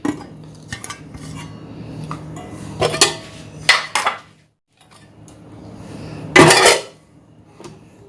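Metal cooking vessels and utensils, rinsed with boiled water, clatter and clink as they are handled in a kitchen. There are several loud knocks and scrapes, with one pause of near silence in the middle.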